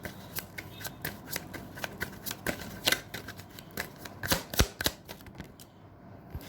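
Tarot cards are shuffled by hand in quick, crisp riffling bursts that run nearly continuously, close and clear, with no voice over them.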